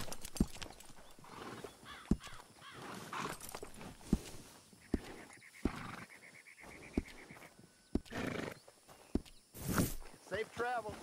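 A horse walking on hard ground, its hooves clip-clopping in an irregular rhythm of sharp knocks close by, with a whinny and people talking around it.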